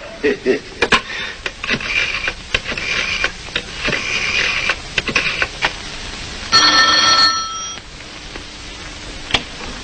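A 1952 telephone rings in a brief electric bell burst partway through, amid clattering, footsteps and room noise as people talk around it.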